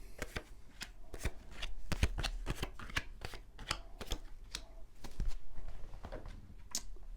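Tarot cards are shuffled close up in a quick, continuous riffle and slap of card stock, a rapid papery rhythm lasting several seconds.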